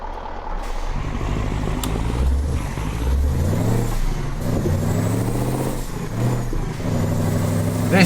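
Truck engine in Euro Truck Simulator 2, a steady loud diesel drone with shifting tones as it drives and changes gear, plus a short hiss near the start.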